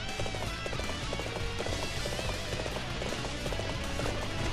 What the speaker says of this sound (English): Oh, he's got a white horse!